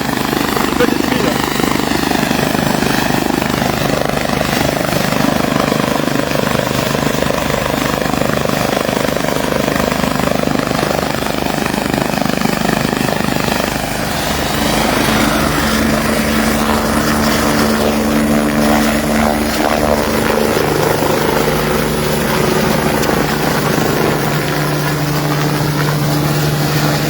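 An Airbus turbine helicopter of the gendarmerie, near a farmers' blockade at the French-Spanish border, roars loud and close with continuous engine whine and rotor thrum that shifts as it readies to lift off again.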